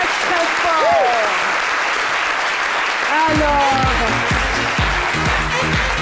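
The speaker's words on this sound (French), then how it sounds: "je vous demande d'applaudir très très fort" A French TV studio audience applauds a guest on a daytime talk show, a dense, sustained wash of clapping filling the whole stretch, with a presenter's voice heard speaking over it in the later seconds.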